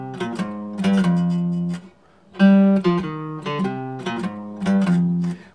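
A guitar plays one measure of jazz-style lesson material in straight dotted eighth and sixteenth notes, clean picked notes and chords in an uneven long-short rhythm with a short pause midway, close and clear.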